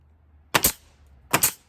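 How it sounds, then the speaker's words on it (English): Two sharp pneumatic nail gun shots drive nails into roof plywood trim, each a loud close crack with a brief rattle, spaced about a second apart with quiet between. "shoot right into the middle of our piece with my nail gun"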